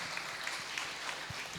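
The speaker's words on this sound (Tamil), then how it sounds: "நமது பங்கிற்காக ஜெபிக்க போகிற சகோதரிக்காக மீண்டும் ஒரு கைத்தட்டோமா?" Congregation clapping during a Holy Mass at St. Anthony's Shrine in Bommidi, Dharmapuri, a short steady wash of scattered hand claps filling the church at moderate distance.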